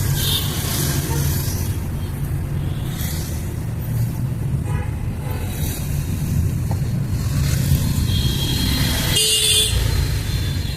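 A classic Fiat 118 NE truck carrying a full load runs with a loud, steady engine drone heard from close by. Short horn toots and some road noise come in near the end.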